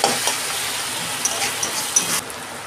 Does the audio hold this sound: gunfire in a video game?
no